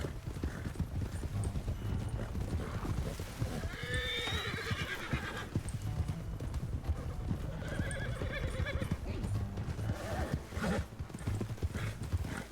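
Horses walking on a trail ride in Jasper clip-clop in a steady uneven rhythm close by, and one horse gives a couple of clear whinnies partway through. A voice speaks briefly.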